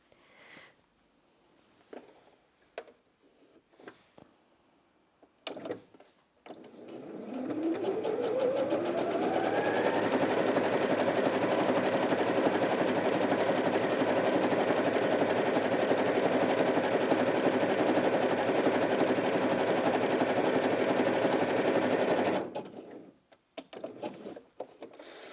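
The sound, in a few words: Janome 360DC sewing machine sewing a zigzag stitch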